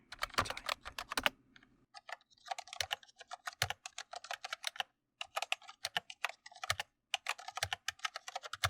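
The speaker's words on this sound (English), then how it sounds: "It's like a cacophony of sounds every time you type." Close, crisp typing on a noisy computer keyboard: irregular bursts of sharp clacking keystrokes, with brief pauses between runs, set against near silence.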